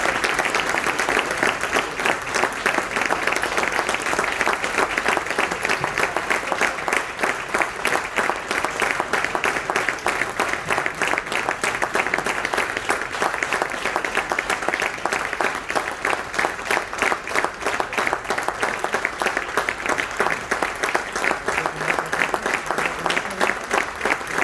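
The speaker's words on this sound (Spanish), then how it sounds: "Un aplauso para él." Sustained applause from an audience at a gastronomy awards ceremony, steady dense clapping that holds at an even level throughout, with no talk over it.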